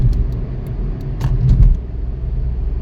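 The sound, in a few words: road traffic heard while driving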